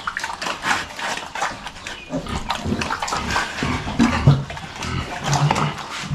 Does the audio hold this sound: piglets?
yes